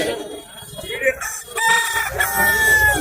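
Silkie chickens cluck and crow loudly nearby, with a long crow rising at the end, amid a busy background of voices and noise at the Kunnathur weekly market.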